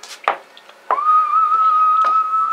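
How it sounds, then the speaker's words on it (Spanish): A person whistles a sustained, steady tone outdoors during a street chess game, preceded by a few short taps or clicks, fairly close with no talking. "¿Chifla? ¿Quién es que chifla?"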